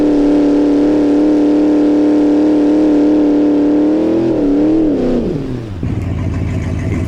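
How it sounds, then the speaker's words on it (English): A Dodge Dakota R/T pickup revving at a drag strip to heat its tires: a loud, steady, close engine drone that wavers and then drops into a lower rumble near the end. "Heat the tires up a little bit"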